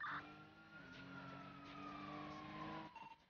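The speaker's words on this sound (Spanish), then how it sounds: "Nos siguen tres patrullas." A wailing police car siren in the video game GTA, with sustained tones sweeping slowly downward over engine noise, sounding synthetic and steady.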